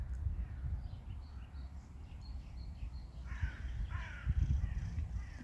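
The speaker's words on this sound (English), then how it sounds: "The birds are singing." Crows caw outdoors, a few short, faint calls in the later half of the clip, over steady low wind and rumbling noise.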